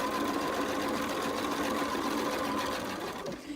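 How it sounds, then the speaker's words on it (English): Close, steady whir of a sewing machine stitching a quilt block, running continuously before easing off right at the end. "I'm going to sew"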